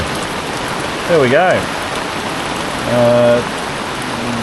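Steady rain falling on a boat deck, a constant close hiss of drops that runs the whole time, with someone speaking briefly over it.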